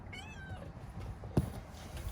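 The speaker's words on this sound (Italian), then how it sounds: "Miau." A black cat meows briefly at the start, a short wavering cry close by, followed by quiet background and a single soft knock.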